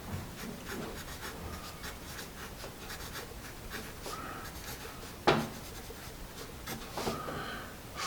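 A freshly sharpened Nataraj pencil writes on paper, giving a steady, close scratchy graphite rasp of quick strokes with one sharper tap partway through.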